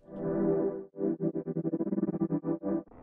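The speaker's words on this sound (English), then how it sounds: "we can add something like an auto pan" A Serum synth pad plays a warm, thick sustained chord that, after about a second, is chopped into a fast, even pulsing rhythm by an auto pan effect modulating its loudness in steady sixteenth notes.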